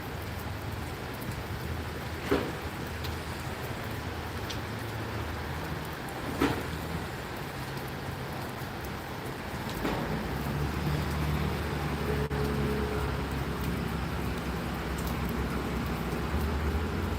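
Steady rain hisses over a Gloucester train station platform, mixed with a low traffic rumble and a few faint knocks and clicks, and a deeper engine drone swells in the later seconds.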